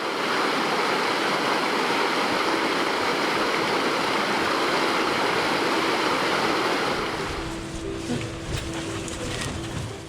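River rapids in northern wilderness rush in a loud, steady roar of turbulent water, thinning toward the end to a quieter wash with a faint low hum.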